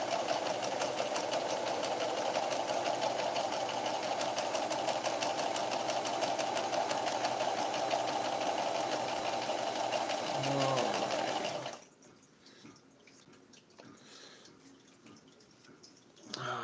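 A sewing machine stitches a stained glass window quilt in a fast, steady mechanical rattle for about eleven seconds, then stops, leaving a quiet room.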